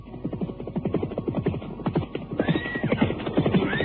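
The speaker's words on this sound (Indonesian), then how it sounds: "mendadak dua orang penunggang kuda datang" Two riders approach on horseback as a radio drama sound effect, hooves clip-clopping in a steady rhythm with a horse whinnying over them, fairly close and continuous.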